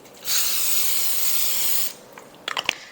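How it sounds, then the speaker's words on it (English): A short, steady hiss of an aerosol cooking spray (butter or olive oil spray) lasting about one and a half seconds, followed by a few faint clicks and taps. "just using a little butter spray, olive oil spray, regular butter, anything will do."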